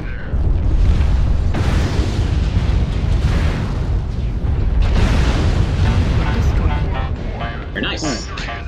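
Weapon fire and explosions in the MechWarrior Online video game, a dense continuous roar of booming blasts and bursts with a loud rumbling low end, punctuated by sharper shots, heard alone without talk.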